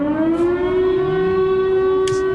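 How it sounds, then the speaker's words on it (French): French civil defense siren sounding its first-Wednesday-of-the-month test, a loud sustained wail slowly rising in pitch, steady and dominant with no voices. "C'est le hurlement des sirènes, le premier mercredi du mois."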